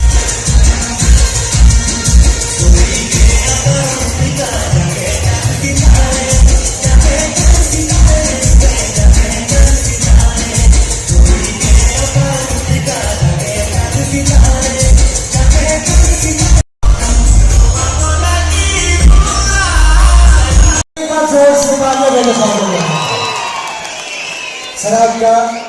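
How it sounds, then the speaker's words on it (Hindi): A large crowd at an outdoor community function in Kotgarh claps and cheers loudly and continuously, with whoops rising above a steady roar of applause that cuts off abruptly near the end. "अब जोरदार तालियां हो जाए एक बार फिर से मेरी साथी निधि शर्मा के लिए"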